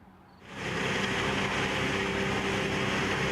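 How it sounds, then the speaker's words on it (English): A loud industrial wood chipper starts up after a brief quieter moment during storm cleanup and then drones on steadily, a dense, roaring mechanical whir with no voices. "That's the sound of the industrial wood chipper they brought in to clean up."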